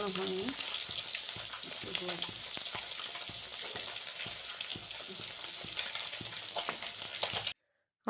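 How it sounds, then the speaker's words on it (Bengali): Steady, close sizzling and crackling of dhoka frying in mustard oil, with faint stirring clicks, then a sudden cut to silence near the end. "সর্ষের তেলেই এই ধোকাটা এইভাবে ভাজা হচ্ছে"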